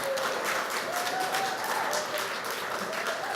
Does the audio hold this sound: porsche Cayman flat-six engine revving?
no